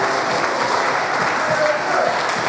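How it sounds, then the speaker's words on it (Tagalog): A church fellowship congregation applauds loudly, a thick, sustained roar of many clapping hands with some crowd voices mixed in, continuous and close throughout. "Yung pinakamalakas na palakpak sa Panginoon."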